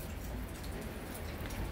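Rain falls steadily onto a veranda where potted succulents sit, a dense, continuous patter of drops hitting surfaces close by, with no voices over it.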